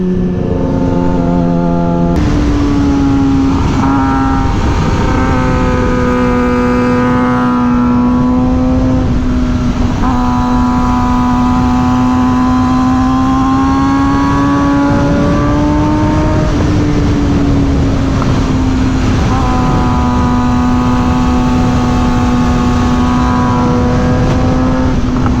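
A Suzuki GSX-R 600 motorcycle engine roars loud and close while riding, holding a strained high-revving whine that climbs through gear changes and surges again, with no voices.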